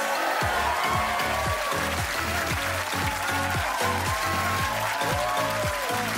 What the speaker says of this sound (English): Please don't even stop clapping. Keep it going.